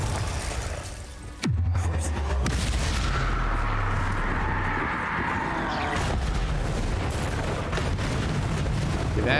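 A Confringo fire spell cast in the video game Hogwarts Legacy: a sharp blast followed by a sustained roaring, rumbling explosion that holds loud for several seconds.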